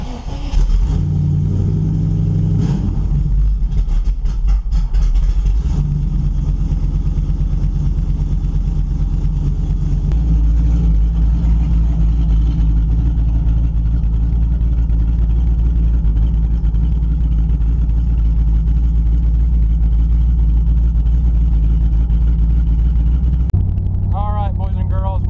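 A car with no mufflers starts up and then runs, its loud unmuffled engine holding a deep, rough idle with a few revs and shifts in tone. Voices talk at times over the constant close drone.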